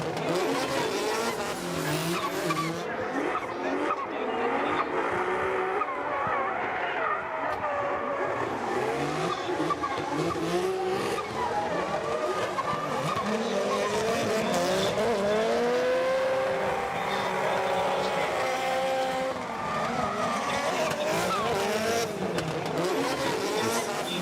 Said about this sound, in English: I hear nothing but blow off valve, engine, blow off valve.